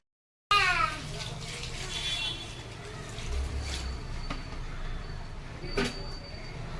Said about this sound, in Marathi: अजून मी याच्यात थोडं पाणी टाकेल